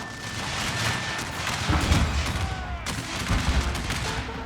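Enemy infantry firing in a First Manassas Civil War battle video game, heard as a dense crackle of overlapping musket volleys with heavier booms, steady and moderately loud throughout.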